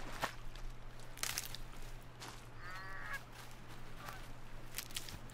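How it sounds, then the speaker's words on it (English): Ducks in the video game Horizon Zero Dawn give one loud burst of quacking among scattered bird calls over a steady low ambient hum. "Oh, it's ducks."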